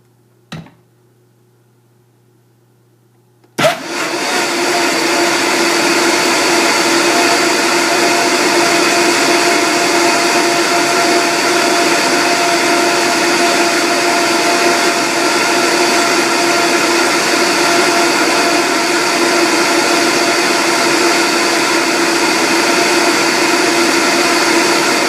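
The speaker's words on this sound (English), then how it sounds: "I'm going to put the lid back on and we are going to blend" A countertop blender blends hemp milk, starting abruptly after a few seconds of near silence with a brief click, then running as a loud, steady, high-speed whir that stays even to the end.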